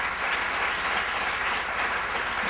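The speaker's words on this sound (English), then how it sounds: "Give them another round of applause." Audience applause for startup presenters at a pitch event, a steady dense wash of clapping filling the room at an even level with no voices on top.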